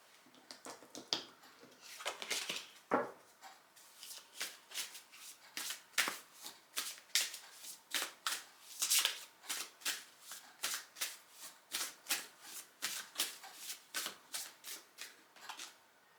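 A deck of oracle cards is shuffled by hand, close and fairly quiet, producing a long run of crisp, rhythmic riffling flicks at a steady pace.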